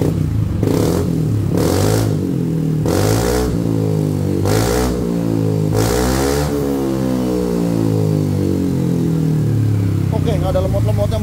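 A Yamaha NMAX 2023 scooter with an SKR aftermarket racing exhaust revs hard several times, throaty bursts rising and falling close by, then settles into a rumbling idle.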